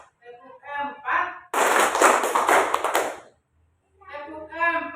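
Elementary school classroom clap game with a voice calling, then a dense burst of rapid group clapping from many children lasting nearly two seconds before a pause and more speech.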